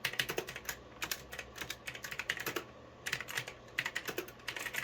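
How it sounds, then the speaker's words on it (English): Rapid bursts of typing on a Logitech keyboard with GX Blue clicky switches, sharp close clicks in quick clusters separated by short pauses, with no talking. "so that's the GX Blue clicky keys"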